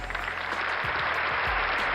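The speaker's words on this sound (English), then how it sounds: "Applaud her, goddammit." Brief, fairly faint applause from a small audience: a continuous patter of clapping that holds steady for about two seconds, with no voices over it.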